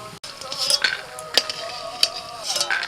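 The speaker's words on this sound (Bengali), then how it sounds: "বড়িগুলো ভাজতে ভাজতে একটু বাদামি কালার হয়ে গেছে" Dried lentil dumplings (bori) sizzle in hot oil in a pan, a steady close crackle broken by a few sharp clinks of a utensil stirring them.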